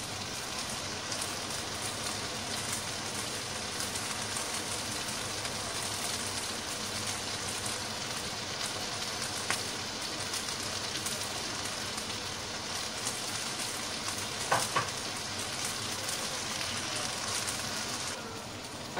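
Canned sweetcorn sizzles steadily in a hot pan partway through cooking a Mexican-style quiche filling, a continuous close crackle like light rain with occasional louder pops.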